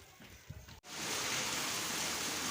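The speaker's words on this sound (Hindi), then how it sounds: "बारिश अभी तक हो रही है" Steady rain pours on a village rooftop during a long afternoon downpour, a dense even hiss that begins abruptly after a brief quieter stretch of drips and patter and then holds loud and unbroken.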